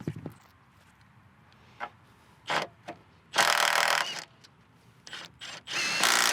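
A Milwaukee M18 FUEL compact impact wrench drives bolts in short, loud bursts of hammering whir, several separate runs spread through the clip with quiet gaps between them.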